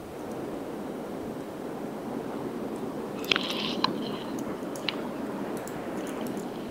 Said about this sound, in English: Oh my god, the ocean is so beautiful.